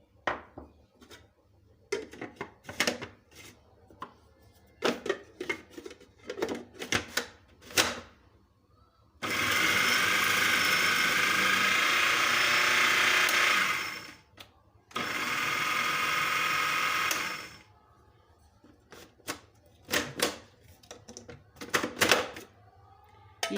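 An electric food chopper whirs loudly in two bursts, about five and three seconds long, chopping a chicken kebab mixture with chilies and garam masala for shami kebabs, with clattering and handling noises before, between and after.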